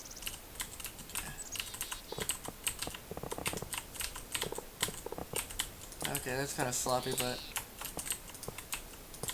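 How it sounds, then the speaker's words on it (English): Loud computer keyboard typing, rapid close clicks in uneven bursts throughout, with someone briefly speaking over it. "you guys are probably listening to my really loud keyboard."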